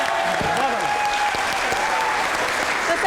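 A studio audience at a comedy talk show claps loudly and steadily throughout, a dense, even wash of applause with no breaks.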